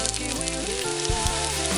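Garlic sizzles in hot olive oil in a cooking pot, a steady bright frying hiss with crackling spatter, continuous and close, with faint tonal sounds running underneath.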